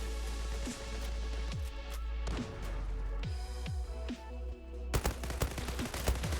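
Rapid bursts of automatic gunfire in the online shooter Zula on a ship map, loud sharp cracks in uneven volleys, ending in a dense fast string of shots.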